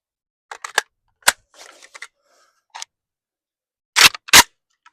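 Chinese 7.62x39 tracer rounds fired outdoors at a target about 800 yards away: several sharp, loud reports spaced irregularly, with a couple of fainter bursts between and two strong shots close together near the end.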